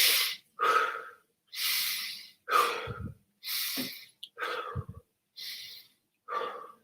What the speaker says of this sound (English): In through my nose and out through my mouth.